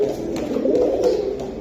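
Several domestic pigeons, pairing birds in a market stall selling Budapest, Gorra and Silver Giribaz breeds, coo in a steady low throaty burble that stays loud and continuous throughout, with no talk over it.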